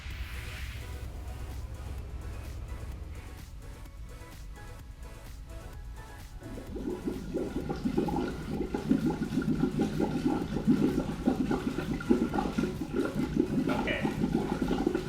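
Compressed air at about 20 PSI bubbles from a submerged Camaro LTG 2.0T recirculation valve, a steady watery churning that grows louder and fuller midway through and continues without pause.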